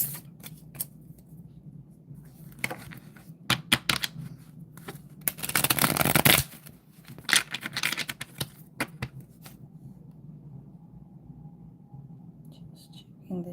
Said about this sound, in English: I have this one on shuffle. I'm going to prepare another deck